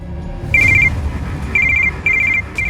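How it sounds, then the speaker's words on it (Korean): A telephone rings with an incoming call from an unknown number: bright, clipped electronic trills repeat in short bursts about once a second, loud and close, with no voices. "모르는 번호로 언니 지희 씨에게 전화가 걸려와."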